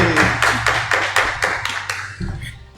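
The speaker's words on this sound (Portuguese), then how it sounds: "Uma salva de palmas, Padre!" A short burst of rhythmic clapping for a podcast guest, about a dozen sharp claps in quick succession, close and loud, fading out at the end.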